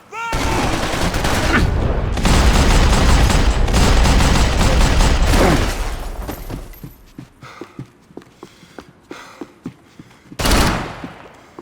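Gunfire in Max Payne 3: a dense, loud burst of automatic fire for several seconds, then scattered single shots and clicks, with a final heavy blast.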